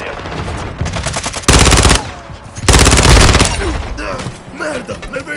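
Two loud bursts of rapid automatic gunfire from Call of Duty: Modern Warfare 2 multiplayer, each lasting under a second, with voices talking in between.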